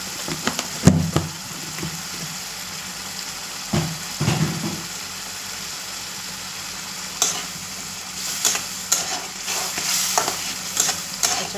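A spiced mixture with garlic, coriander and coconut is sautéed in oil in a pan, giving a steady close sizzle broken by several louder bursts of stirring and scraping, with no talk.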